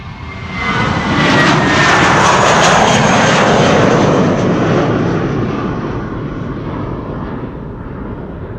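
A Finnair jet airliner bound for Helsinki departs Amsterdam Schiphol Airport, a loud, broad engine roar that swells to a peak and then slowly fades as it climbs away.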